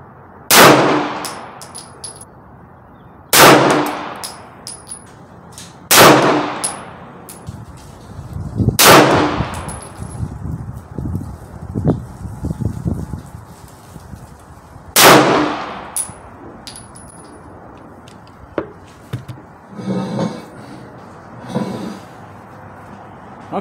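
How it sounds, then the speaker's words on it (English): Five sharp 9mm gunshots from a Lion Heart LH9 pistol, each a loud crack with a ringing tail, spaced a few seconds apart, plus a softer fainter one later amid low background sounds. "I'm gonna try 5 more shots, aiming a little to the right"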